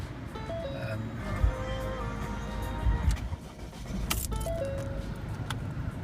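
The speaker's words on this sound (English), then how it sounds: "first thing you want to do is warm up the engine" A 2011 Ford Focus C-Max engine idles steadily while warming up, a low continuous rumble close by, with occasional clicks, a brief hiss and some background noise over it.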